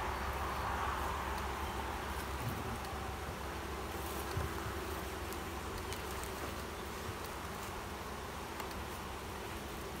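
Bees buzz steadily around a backyard beehive, a dense, continuous drone that stays close and even for the whole stretch, with no voices over it.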